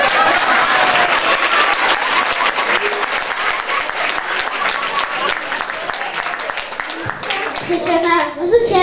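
Applause from the audience at a primary school Christmas celebration in Rhodes, Greece: dense, sustained clapping from a crowd that stays loud throughout, with a few children's voices mixed in toward the end.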